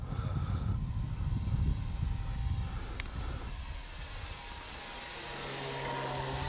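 A 925mm radio-controlled Fokker D.VII biplane makes a slow, low pass on its maiden flight. Its motor buzzes at moderate distance, with the drone swelling and fading as it crosses, amid light outdoor wind noise and no talk.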